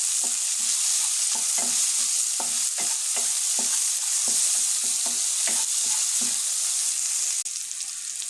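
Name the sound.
onions frying with salt in a pan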